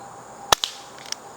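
An Umarex Avera .177 CO2 air pistol fires wadcutter pellets offhand, giving a sharp close crack followed by two lighter ticks, brief and alone without speech.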